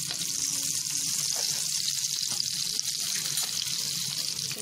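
Butter melts and sizzles in hot soybean oil in a pan while chicken soup is being started, giving a continuous, even frying hiss from start to finish, close and steady, with no talk.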